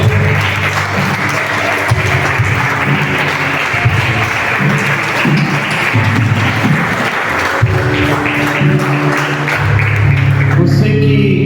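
A church congregation applauds throughout, with dense, sustained clapping that holds steady at a fairly close, loud level over low musical tones.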